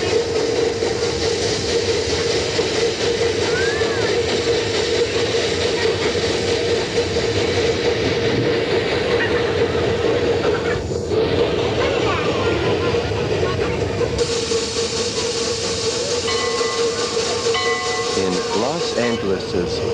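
Southern Pacific 4449 Daylight steam locomotive running, a loud continuous rumble and hiss of steam with a steady tonal drone and brief whistle-like tones, heard close and without pause.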